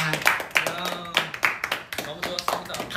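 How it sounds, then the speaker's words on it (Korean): Hand clapping in a group livestream, several sharp claps in an uneven rhythm, close and fairly loud, mixed with people talking. "박수 쳐주면서"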